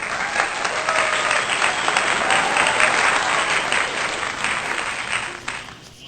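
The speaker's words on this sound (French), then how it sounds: "Veuillez donner une bonne main d'applaudissement au docteur dépression." A studio audience gives a warm round of clapping to welcome a guest presenter on a French-language mental health program, the sustained applause loud and close, holding steady before tapering slightly near the end.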